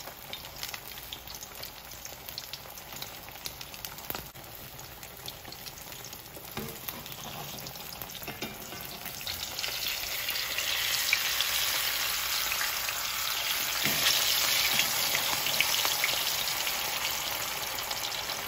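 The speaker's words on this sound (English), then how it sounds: "It's very important that your oil is at the right temperature, because if not, your salmon is gonna stick." Salmon fillets frying in hot oil for Jamaican escovitch produce a continuous hissing sizzle that swells louder in the second half, with no talking.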